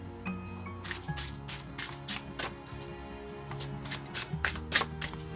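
A deck of tarot cards is shuffled close up, a run of quick, crisp riffling bursts repeating in an uneven rhythm with no talking.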